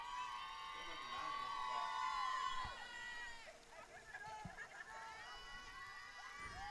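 A school bus full of Lady Cardinal supporters drives past a baseball game, its passengers cheering and shouting in a loud, sustained crowd roar that swells over the first few seconds and then fades as the bus moves away.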